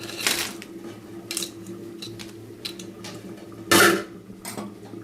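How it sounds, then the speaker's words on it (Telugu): Crabs being stirred in a frying pan for a crab fry, irregular scraping clinks of a utensil against the metal pan, a few sharp knocks over a low background hum. "తిప్పిన తర్వాత దీంట్లోకి ఇగోండి పీతలు వేస్తున్నాను"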